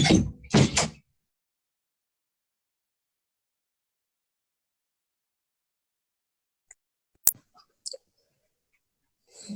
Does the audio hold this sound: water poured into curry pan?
no